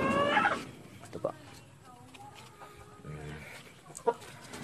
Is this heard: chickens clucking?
yes